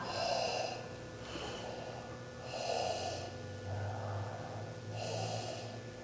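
Breaths pushed into cupped hands over the nose and mouth rise and fall in a slow, soft, muffled rhythm, about four close inhale-exhale cycles with a faint hollow rush.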